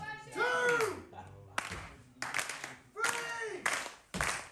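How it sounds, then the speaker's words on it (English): A wrestling crowd at a hardcore grudge match claps in rhythmic bursts to rally behind a wrestler called the Banshee, sharp unison claps alternating with a commentator talking over them. "Crowd rallying up here, and I truly believe that they're rallying up behind the Banshee"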